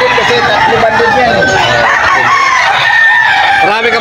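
Chickens and roosters at a busy poultry market in Bocaue, Bulacan on a rainy day, with crowing and clucking running throughout beneath a steady crowd babble and people talking.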